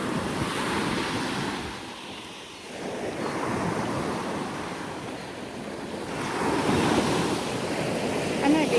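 Waves wash and break on a beach, swelling and receding in a steady, moderately loud surf with some wind.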